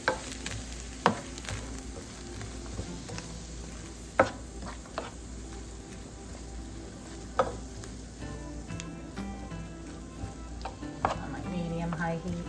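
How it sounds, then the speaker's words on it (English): Onions and peppers fry in a skillet over medium-high heat, a steady soft sizzle broken by sharp clicks and clinks of stirring at irregular intervals. "Add onions and peppers and cook about 3 to 5 minutes"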